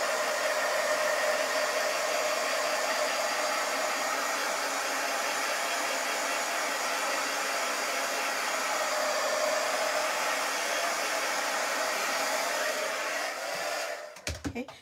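A hair dryer runs steadily and loudly for the whole stretch, drying a farmhouse decor craft piece, then cuts off with a few handling knocks at the very end.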